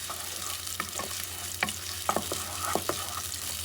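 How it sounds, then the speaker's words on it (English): Chopped onion is stirred and fried in a pan to caramelize for an antelope dish, a soft continuous sizzle punctuated by several close scraping clicks of a spoon, with no talking. "Mix it up a little bit, get some caramelization."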